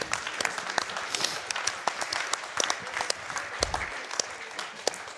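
Dense audience applause fills a speedrun charity event hall, a sustained wash of clapping with sharp individual claps popping through, loud and continuous throughout.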